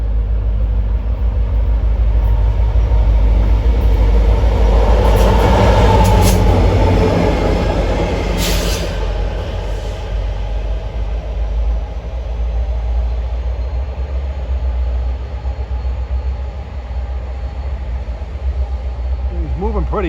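Norfolk Southern helper locomotives passing on the Pittsburgh Line in autumn: a loud diesel roar and rumble that swells in the first seconds, peaks as they go by, then settles into steady wheel and rail noise.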